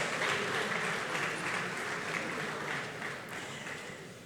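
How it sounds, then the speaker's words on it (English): A large audience at a Democracy Day public lecture claps steadily as a senator walks to the podium, a broad, even wash of applause that eases slightly toward the end. "I'd urge you to keep clapping."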